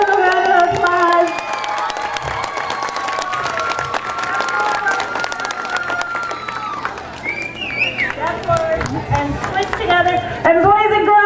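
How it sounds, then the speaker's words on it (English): An audience at an elementary school talent show claps and cheers loudly and continuously, with children shouting and voices calling out over the steady wash of applause. "Give them a round of applause."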